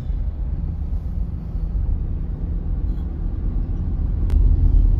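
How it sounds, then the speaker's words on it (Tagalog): Steady road traffic rumble, close and continuous, with low engine drone from passing vehicles and a slight swell toward the end. "Guys, oh, traffic talaga oh."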